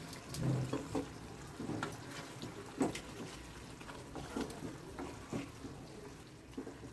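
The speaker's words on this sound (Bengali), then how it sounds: "মিক্সির জারটাকে ধুয়ে একটু জল আমি এতে দিয়ে দিলাম।" Water runs and sloshes as a mixer grinder jar is rinsed, a quiet, uneven splashing with a few light knocks of the jar.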